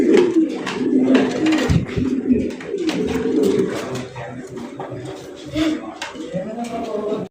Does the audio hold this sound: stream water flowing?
no